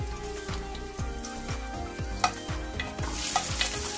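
Onions and pork mince sauté in a pan for a Filipino giniling dish, with a loud continuous sizzle and evenly spaced stirring scrapes about twice a second.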